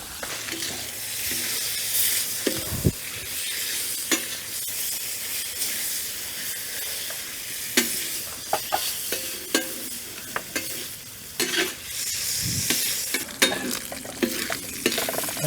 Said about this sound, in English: the bacon's just about done